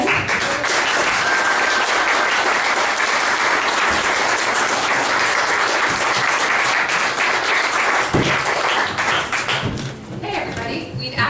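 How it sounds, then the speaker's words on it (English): Loud, continuous applause from a large crowd at a Sunday Assembly gathering in Las Vegas, welcoming a band; dense clapping holds steady before thinning slightly near the end. "give a round of applause"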